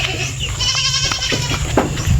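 A goat bleats in a long, wavering, nasal cry close by, over a steady low background hum.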